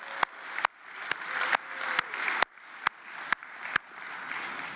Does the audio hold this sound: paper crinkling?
no